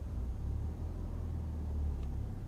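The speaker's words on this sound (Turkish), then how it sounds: "motor sesini dinleyin. Sesi değişti." A car engine idles low and steady, its rumble rising slightly as the car pulls away during a driving test, with no voices.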